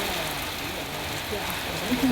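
Heavy rain pours down in Dharwad during a sudden storm, a dense, steady hiss of drops on surfaces that stays even and close throughout, with no break.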